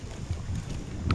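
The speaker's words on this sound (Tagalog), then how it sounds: "Sobrang lakas ng hangin." Strong wind blows over a fish pond, roaring and buffeting the microphone in a dense low rumble for a brief moment, with no clear voices.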